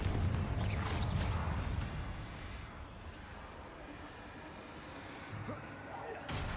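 A Confringo fire spell blasts in the Hogwarts Legacy video game, a loud booming burst with a rumbling explosive tail that fades into a low, steady din, with a second swell at the end.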